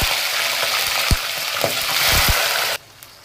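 Chicken liver fries in hot oil in a pan over a low flame, giving a steady broadband sizzle with a few soft knocks and stirring clicks, cutting to near quiet at the very end.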